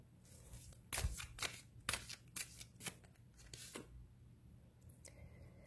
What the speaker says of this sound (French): Je vais juste monter un petit peu les cartes.